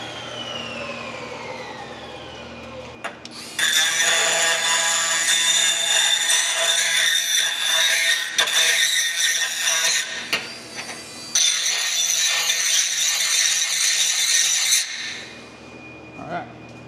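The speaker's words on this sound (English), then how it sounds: "Grab the die grinder." A die grinder whines loudly while working steel exhaust headers for a GTO, running in two long continuous bursts with a short pause between, preceded and followed by quieter shop ambience.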